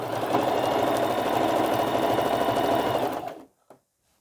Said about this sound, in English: Forward stitch and back stitch. And I'm just going to sew all the way around.